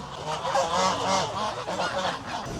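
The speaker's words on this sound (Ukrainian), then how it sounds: "італійські гуси, вони так само, в принципі, гакають, як і українські гуси" Italian geese honk loudly and repeatedly in a noisy chorus, several birds calling over one another close by with no pauses.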